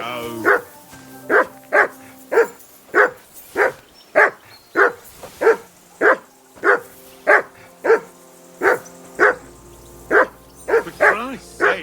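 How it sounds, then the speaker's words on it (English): Repeated loud barking from a dog in the medieval role-playing game Kingdom Come: Deliverance 2, evenly spaced sharp barks about every half second, close and dominant, with a quicker burst near the end. "Call off that damn dog before he wolfs down the last of us."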